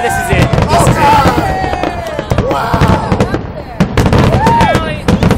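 Fireworks burst in rapid, loud, close succession, many sharp pops and booms overlapping, while people's excited voices rise between the blasts.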